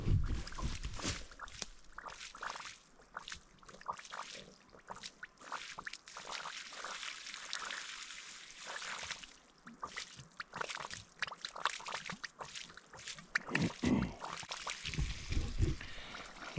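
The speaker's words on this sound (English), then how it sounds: "I heard this thing bubbling and gurgling" Water bubbling and gurgling up close, with irregular sloshing bursts and splashes over a steady low rumble, no voices.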